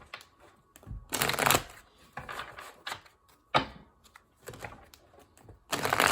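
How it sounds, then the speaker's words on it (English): Tarot cards shuffled by hand in a psychic reading, several bursts of riffling and slapping of the deck separated by short pauses, close and fairly quiet. "Last shuffle."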